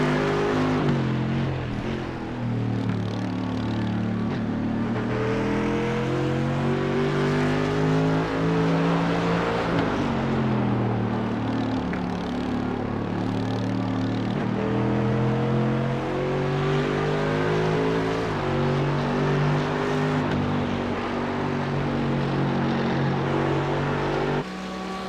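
Audi and Mercedes race cars roar around Watkins Glen in a racing video game, engines holding a steady loud drone with rising and falling pitch as they shift and accelerate, continuous and close.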